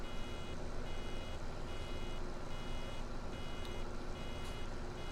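A repeating electronic warning beep from a baler in Farming Simulator 17, pulsing steadily over a constant low tractor engine drone throughout.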